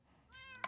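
Cat meowing in Minecraft, a single short, fairly faint meow ending in a sharp click.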